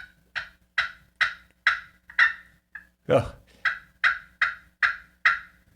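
A handmade turkey call imitating gobbles, sounding a rapid series of about ten sharp, loud, close gobbling bursts with a brief break midway; someone briefly speaks between them.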